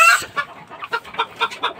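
Hens cluck on a farm of gamecock breeding stock, a near, loud squawk opening into a string of short, rhythmic clucks repeated about every quarter second.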